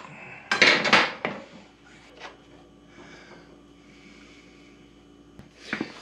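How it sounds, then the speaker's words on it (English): Metallic clinks and scrapes as a 12mm Allen key is fitted and levered to crack the front axle screw on a KTM Duke 790 motorcycle, with a sharp cluster of clanks early and a quieter tap near the end. "next thing to do is to crack the axle screw, which is a 12mm Allen key"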